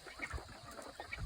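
Farm ducks quack and honk in a few short, nasal calls close by, overlapping with soft rustling and background farmyard noise.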